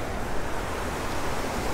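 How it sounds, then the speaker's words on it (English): River water rushes past a small dam in a steady, dense roar, close and continuous with no voices over it. "We've got the flowing river right here."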